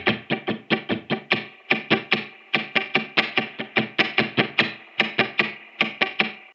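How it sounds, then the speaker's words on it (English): An electric guitar chugs through a funk-inspired 16th-note rhythm, tight muted strums in fast, even bursts with short gaps marking skipped beats, bright and close with a slightly distorted edge. "The rhythm we're doing here is a little bit of a funk-inspired rhythm."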